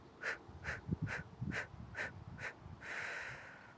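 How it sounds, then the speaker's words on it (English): Someone exhales through the mouth in six short, evenly spaced puffs during a beginner yoga session, each breath a close, breathy burst, ending in one longer, steady outbreath. "we're going to exhale in pulses. So breathing out through the mouth"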